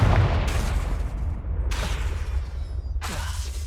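Confringo blasting spell going off in Hogwarts Legacy, three separate sharp bursts spaced apart over a low rumbling game ambience, each crack loud and brief with a short fading tail.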